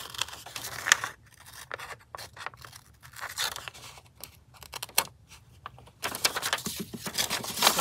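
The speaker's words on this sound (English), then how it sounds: "Just cut a little bit more off of this." Scissors cut through craft material in a quiet room, giving a run of short crisp snips and scraping slices in irregular bursts, close by and with no talking.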